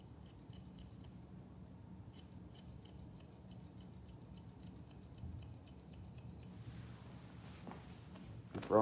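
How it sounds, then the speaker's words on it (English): Scissors point cutting long hair during a layered haircut, a steady run of soft, rapid snipping clicks, close and quiet against a low background hum. "bringing it straight down, and point cutting that length out of there"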